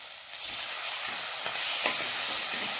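Onion and green chilli sauté in oil for a Tamil-style crab curry, with tomato about to go in: a steady close-up sizzling hiss with a few soft stirring scrapes and light ticks, no voices.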